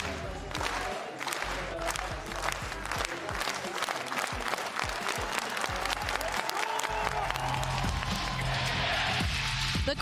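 A big stadium crowd at the VALORANT Champions esports playoffs in Istanbul cheers and chants for FPX, loud continuous roar with rhythmic claps and thumping beats, and a commentator's voice runs over it.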